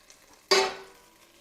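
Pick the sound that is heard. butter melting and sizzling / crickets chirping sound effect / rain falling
butter melting and sizzling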